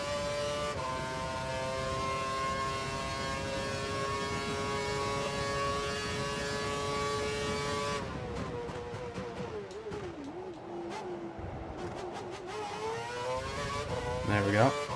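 Formula One car engine in the racing video game F1 2012: a steady high-pitched engine whine that holds level, then drops and wavers as the car slows, with a rising rev near the end. A person talks over the engine throughout.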